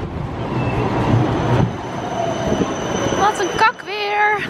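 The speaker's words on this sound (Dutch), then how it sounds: "ik ben even lekker naar de tram en met de tram naar mijn afspraak gegaan" A tram rolling along city rails, with a continuous rumble of the carriage and wheels that ends in a rising, wavering metallic wheel squeal, heard up close from on board.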